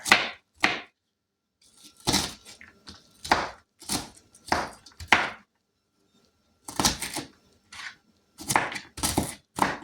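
A knife chopping a small onion on a cutting board, sharp irregular taps in quick clusters with short pauses between them, close and clear without talk.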